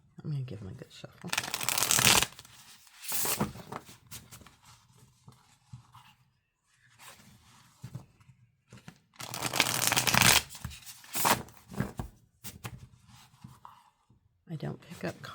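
Someone shuffles a tarot deck repeatedly by hand, with two strong bursts of riffling cards and softer rustling and tapping in between, close and clear, as a voice talks at times.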